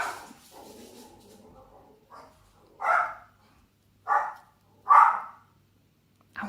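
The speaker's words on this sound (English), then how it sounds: "Sorry about the dog barking." A dog barks four times at spaced intervals, sharp and fairly close, with a faint voice at the start and quiet gaps between barks.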